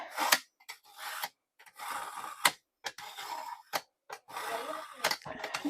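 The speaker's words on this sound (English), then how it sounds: "I'm going to sharpen this knife real fast." Kitchen knife being sharpened with quick, repeated rasping strokes in short bursts separated by brief silences, fairly close and moderately loud.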